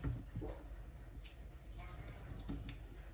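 Water is poured over a Havanese puppy during a bath, making soft splashing and trickling in uneven bursts, close and fairly quiet.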